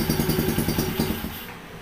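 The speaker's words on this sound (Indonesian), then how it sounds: "Kita coba tarik gasnya ya." A 125cc mini trail motorcycle from 2020 with a manual clutch and manual transmission revs close by in rapid, loud, pulsing throttle bursts, then fades away near the end.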